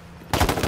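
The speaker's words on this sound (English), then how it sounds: "I hit him with a rocket" In the video game H1Z1: Battle Royale, a rocket strikes a player with a sudden loud explosive blast that cuts in after a quiet moment and rumbles on briefly.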